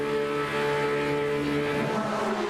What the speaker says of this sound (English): The engine revs will rise, and we are all set for the main race of round number 3.